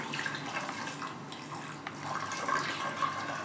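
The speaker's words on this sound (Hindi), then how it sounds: "2 गिलास पानी हमने डाला है" Water pours steadily into a cooking pot for mutton tahri, a continuous splashing hiss at close range with slight gurgling changes and no voices.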